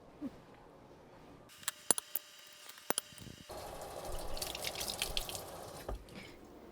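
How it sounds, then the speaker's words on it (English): A kitchen tap runs as hands are rinsed after cracking eggs for chocolate chip cookies. A few sharp clicks and drips come first, then a soft, steady stream of water flows through the second half before briefly stopping. "Anybody else just, you know, wash off your hands after you work with eggs?"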